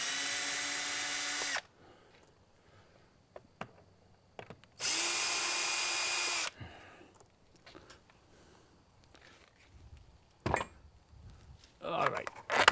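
A power drill backs out screws during a home repair job: two loud, close whirring bursts of about two seconds each, separated by quieter handling clatter and a few knocks.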